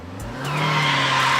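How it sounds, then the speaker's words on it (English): A car in a video game screeches to a halt, with a rising engine rumble and a sustained tire squeal that grows louder and holds steady over about a second and a half, heard alone without talk. "You turn as the vehicle immediately screeches to a halt beside you."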